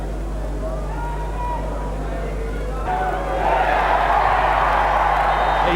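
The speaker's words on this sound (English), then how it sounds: "The roar of the crowd tells you." A rugby league stadium crowd at a New Zealand versus Great Britain test match rises into a loud, sustained roar after a successful conversion kick, swelling from a low murmur to a broad cheer midway through.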